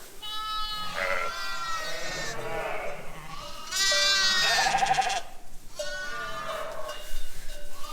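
Newborn lambs in a barn during lambing season bleat loudly and close, a string of overlapping high wavering cries that rise and fall throughout with hardly a pause.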